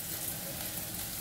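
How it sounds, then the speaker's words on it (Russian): Flour toasting in a frying pan for gravy, with zucchini already in the pan, gives a steady close sizzle and faint crackle with no break. "Как в подливу поджаривает муку, да?"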